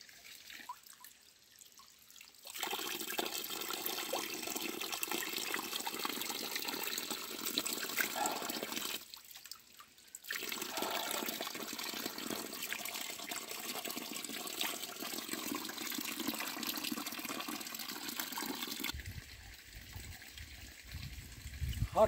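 Cold spring water pours steadily at a mountain plateau spring, a continuous close splashing and trickling that cuts off briefly twice, with a different low rumbling texture near the end.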